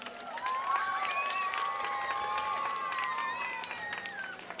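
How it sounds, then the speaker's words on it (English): An audience at a mayor's press conference for the O.V. Catto mural applauds its artists, sustained clapping and cheering from a crowd with some voices mixed in throughout. "Can we have a round of applause for our artists?"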